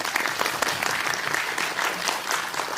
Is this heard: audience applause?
yes